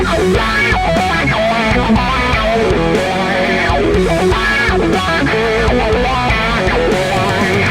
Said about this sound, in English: you just love the Marshall sound